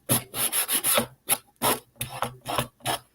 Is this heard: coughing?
no